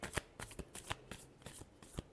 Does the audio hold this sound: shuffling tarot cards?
yes